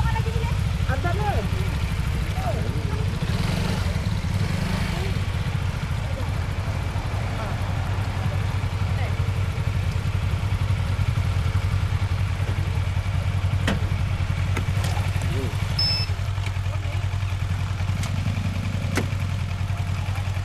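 A motorcycle engine idles steadily, close and loud, as a continuous low rumble with clatter. The setting is a ride to a fish-head curry restaurant at Pantai Remis.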